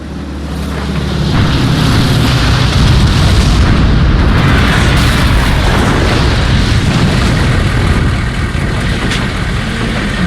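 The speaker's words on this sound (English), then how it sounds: "we're gonna see Sevastopol getting bombarded with German aircraft and artillery and pretty much everything" German aircraft and artillery bombard Sevastopol in a Men of War game cutscene: a loud, dense, continuous barrage of booming explosions and rumbling that swells and holds, with no talk.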